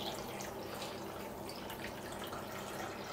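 Water runs and splashes into a cooking pot as 800 ml is poured for baklava syrup, a steady close trickle and patter with no talking.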